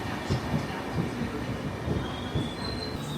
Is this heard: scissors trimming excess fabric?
no